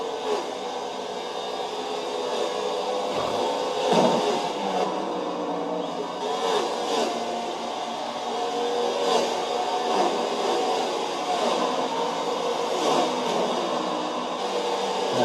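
A race car engine drones from on board during a Kansas race, a steady loud roar with small rises and dips in pitch, with no talking.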